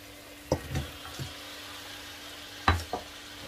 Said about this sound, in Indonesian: Kita masukkan cekernya.